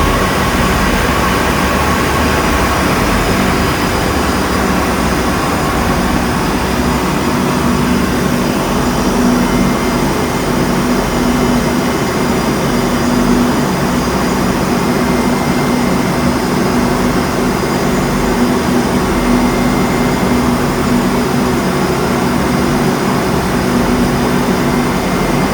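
Steady, loud mechanical drone of a ship's refrigeration compressor drawing refrigerant gas in the machinery space, a continuous broadband roar with a low hum running unchanged throughout, no voices.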